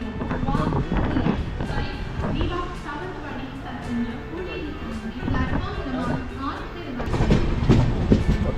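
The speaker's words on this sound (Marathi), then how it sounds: "फायनल आपली गाडी सुटलेली आहे" A passenger train departing Diva station with rhythmic clickety-clack over the rails and a dense low rumble; voices chatter nearby underneath the rattling.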